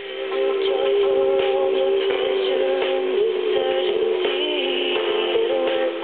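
Sound from the loudspeaker of a regenerative FM receiver, thin, band-limited and slightly distorted program audio with a steady tone running through it, continuous and fairly loud.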